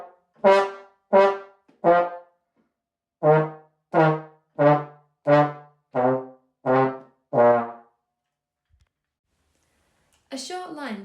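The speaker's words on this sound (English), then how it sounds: "here's what it would sound like if I played all the notes in Twinkle Twinkle with this accent." A sequence of short, strongly accented melodic notes plays the Twinkle Twinkle tune in marcato style, each note hit hard and cut off crisply, eleven or so evenly spaced with a pause midway, ending as another sound begins.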